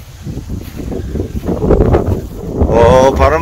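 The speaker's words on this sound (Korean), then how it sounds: "오, 바람 부네 또." Wind gusts buffet the microphone outdoors on a hillside walking trail, a low rumbling roar that swells louder toward the end, with a voice briefly audible beneath it.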